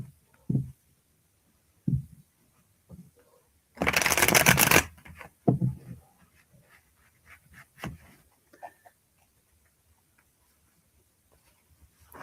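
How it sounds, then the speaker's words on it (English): A deck of tarot cards is shuffled in one loud, dense riffling burst lasting about a second and a half, close to the microphone, with scattered soft handling taps and rustles before and after in a quiet room. "I'm going to shuffle."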